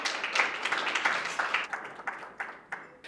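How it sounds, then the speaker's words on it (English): Audience applause at a technology and banking business talk: a room of people clapping steadily, then thinning out toward the end, with scattered individual claps standing out. "Please give Paul a round of applause"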